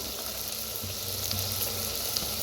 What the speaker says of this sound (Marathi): कांदा छान असा भाजायला आलाय, त्याच्यात टाकूया 1 टमाटर बारीक असं कापून घेतलं होतं